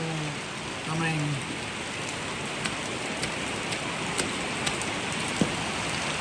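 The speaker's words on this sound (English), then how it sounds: "Cause it ain't doing nothing but dadgum raining. Raining cats and dogs and cows and bulls" Heavy rain pours outside a shop as a dense, steady hiss, with a few sharper drips and taps striking a surface near the end; a brief low voice or rumble sounds early on.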